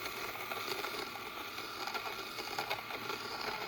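An electric lint shaver runs with a steady, faint whirring hum and light mechanical rattling as its blades spin, with no voices over it.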